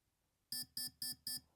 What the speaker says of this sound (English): 5 is a long beep, 6 is a long and a short, and so on and so forth